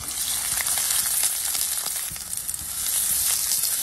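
One large onion frying in coconut oil, a steady, loud broadband sizzle throughout with faint stirring scrapes and no talk.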